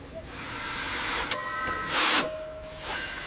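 A restored steam tank locomotive hisses steam in a broad, loud rush, with a brief whistle-like tone partway through and a second burst of venting near the end.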